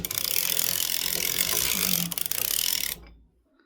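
A circular sock knitting machine is cranked while knitting a short striped sock, a continuous close ratcheting clatter that runs steadily and then stops abruptly.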